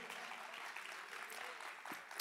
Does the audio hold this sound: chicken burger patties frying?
no